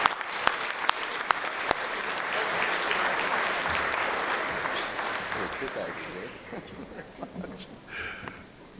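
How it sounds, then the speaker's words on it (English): Audience applause at an evening rugby union gala ball, a sustained wash of clapping that swells, holds steady and then thins out toward the end, with a few sharp individual claps at the start. "So if you could all please join me with a round of applause."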